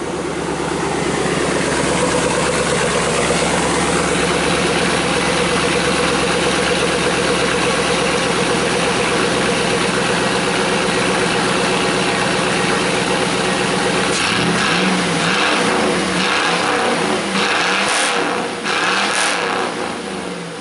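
Car engine with reworked exhaust, a loud, steady rumbling idle held for a long stretch, then rising and falling revs near the end, close to the pipes, no talking.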